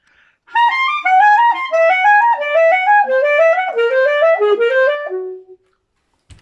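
A synthesized melodic line climbs and steps in even, evenly spaced notes with a whole-tone feel, moving in augmented fifths, bright and sustained, played alone for about five seconds.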